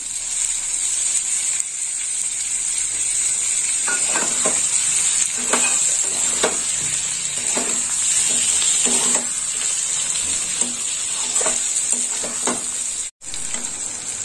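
Long tomato slices frying in a pan with fish and aubergine cooking nearby, a steady loud sizzle running throughout while a spatula scrapes and stirs in repeated knocks, with no talking.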